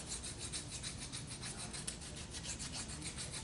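A rasp is worked over a small hand-carved wooden comfort bird, mostly with the grain, in steady back-and-forth strokes. The rhythmic scraping is close and continuous.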